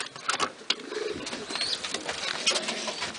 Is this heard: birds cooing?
yes